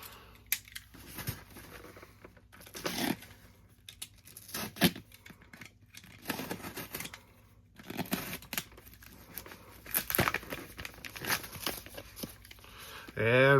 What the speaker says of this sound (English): So let's go ahead and cut it open and see what we have.